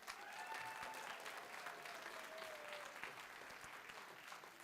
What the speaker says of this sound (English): Let's give a hand for our percussion section.